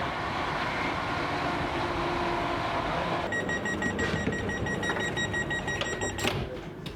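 TfL Rail train going into the overground Liverpool Street terminus, a steady rolling rumble of the carriage, then a series of high pitched electronic beeps and clicks as it runs in.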